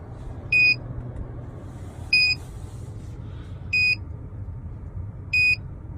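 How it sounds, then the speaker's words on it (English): A Tornado Tuning T-box finishing its run in a Mercedes-Benz GLE 350d gives four short, clear electronic beeps at even intervals over a low cabin hum. "After you hear the beeps, it's safe to remove the T-box."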